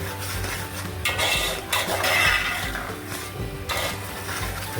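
Onion paste frying in a pan while being stirred, a loud close sizzle under continuous spoon scraping and clinks against the metal, with no voices.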